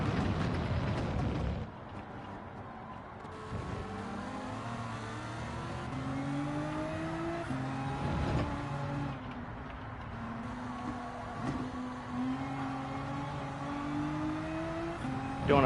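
Race car engines in Gran Turismo 7 rise and fall in pitch through gear changes during an overtake, with mechanical whine and occasional thumps, steady and fairly close with no talking.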